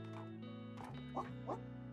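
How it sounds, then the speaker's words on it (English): A dog in the cozy video game Tiny Bookshop gives a couple of short barks over steady, soft background game music. "Okay, let's talk to the dog again."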